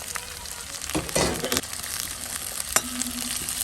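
Garlic, ginger, green chillies, onion and capsicum fry in a hot pan, crackling and sizzling steadily at close range. Louder bursts of stirring and scraping break in now and then, with no talking.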